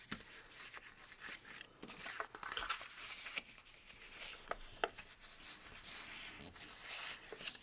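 Sheet of paper being folded into a double pleat, with soft crinkles, rubs and sharp creasing taps scattered across a quiet, close background.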